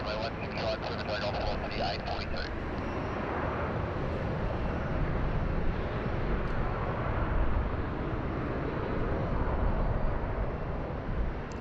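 A Fiji Airways jet taxis along taxiway Golf at Sydney Airport, its broad engine roar rising and falling in the distance amid airport noise, with faint talk underneath.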